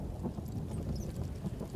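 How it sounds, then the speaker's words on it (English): A thunderstorm in the video game Pig Detective, a low, dense rumble of thunder mixed with steady rain and a little wind, continuous and fairly soft throughout. "There is a storm coming."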